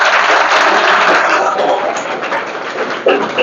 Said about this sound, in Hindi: लड़कियां खुद के लिए जोरदार ताली बजाएंगे अपने लिए